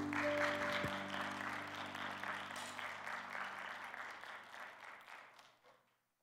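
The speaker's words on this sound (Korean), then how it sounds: "뜨거운 박수로" Congregation at a church winter worship camp giving warm applause to welcome the pastor to the stage; dense clapping over a lingering sustained musical tone at first, then thinning and fading out to silence near the end.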